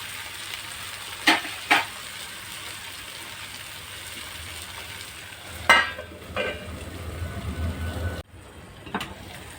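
Okra bhaji with grated coconut and coriander stirred in a pan on low heat, a soft continuous sizzle under a few sharp clinks of a spatula against the pan.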